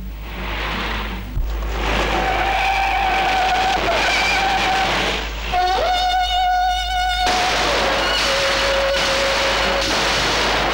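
A car in a chase revs and accelerates hard with a high whining engine, the pitch rising and shifting while tyres screech, loud and close the whole time.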